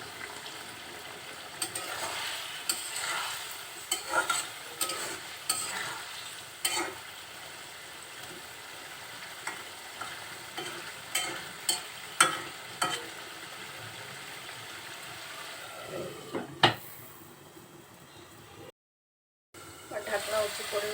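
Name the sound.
masala okra cooking covered in pan, stirred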